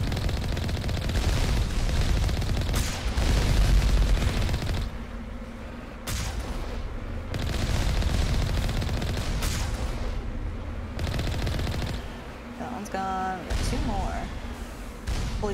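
Turret gunfire in Mass Effect, rolling loud bursts and booms of automatic fire with player talk running over them.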